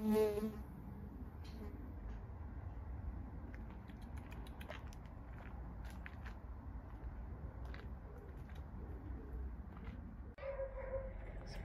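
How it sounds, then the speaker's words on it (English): Small moths flitting through the air in the garden at Gilbert White's House give a faint, continuous insect-like buzz spread through the whole stretch, steady and quiet with no talk over it. "the air is full of all the little moths buzzing around"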